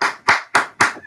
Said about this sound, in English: Why is there incessant clapping going on?